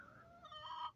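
A brief, faint cluck-like call rises and wavers from one of four chickens inside a small backyard chicken coop, heard alone and close for under a second.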